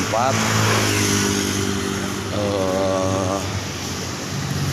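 Off-road trial motorcycles, part of a convoy delivering aid to a disaster area, rev and idle nearby with rising and falling engine tones, while someone talks over them.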